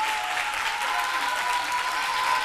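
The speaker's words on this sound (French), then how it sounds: "On va l'applaudir très fort, les amis." A crowd at the launch event of Wozo Vacances 2015 applauds loudly for an invited guest, a thick, steady roar of clapping that fills the room without pause.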